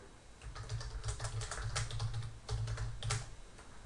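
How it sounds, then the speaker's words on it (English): Rapid clattering keystrokes on a computer keyboard, close and fairly loud, in irregular bursts with short pauses, no talking. "And I'm just typing away."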